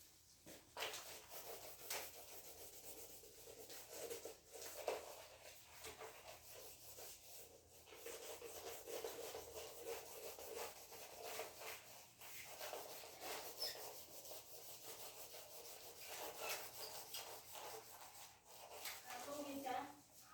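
A diagram is being rubbed off a board in a classroom, making faint, repeated dry swiping strokes in an uneven rhythm, with a voice talking now and then.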